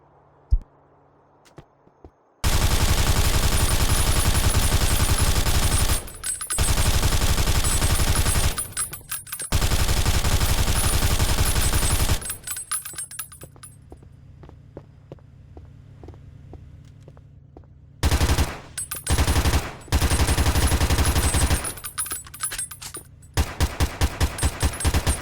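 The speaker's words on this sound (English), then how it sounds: "if y'all don't like these gun sounds, I gave y'all like, I think about 6 gun sounds in there y'all could choose from" Purple AR pistol fired in a modded Grand Theft Auto IV on PC: loud, rapid automatic bursts of gunfire repeat several times, separated by brief silences and ending in short quick volleys.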